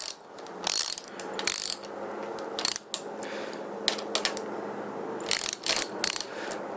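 Bolt threaded into a motorcycle clutch lever during installation, giving a series of light metallic ratcheting clicks in irregular bursts, close up and moderately loud with no talking.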